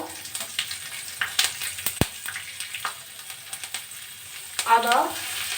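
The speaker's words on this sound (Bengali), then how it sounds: "জিরেটা ভাজা হয়ে গেছে। এবার দেবো লঙ্কা," Green chilies and cumin seeds fry in a pan over low-to-medium gas, a soft close sizzle with light stirring taps and one sharp knock, fairly quiet and without speech.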